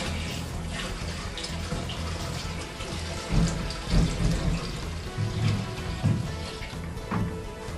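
Water pours steadily into the solution tank of a PEX series heated carpet extractor, a continuous close splashing and gushing with a few louder surges partway through.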